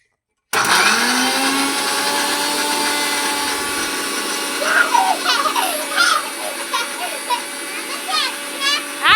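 An electric juicer whirs loudly and steadily at home, its motor drone running throughout with children's voices and chatter coming through over it.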